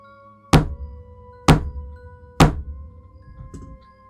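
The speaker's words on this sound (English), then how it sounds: "I heard him knocking over and over and over again." Three heavy knocks pound on a front door at roughly one-second intervals, loud and close, each a sharp thud with a short boom, followed by a fainter rumble and quiet ambience.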